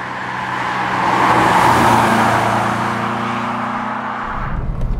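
A Peugeot 306 Rallye with a 1.9 engine derived from the 205 GTI unit drives along. Its engine drones steadily and swells to a louder peak before easing off, with road and wind noise throughout and no talking.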